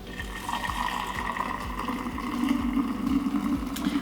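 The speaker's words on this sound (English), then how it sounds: "take everything that I squeezed out and pour it into my jar here." Homemade nut milk is poured from a container into a jar with a steady liquid splashing and gurgling, and soft regular knocks run beneath it.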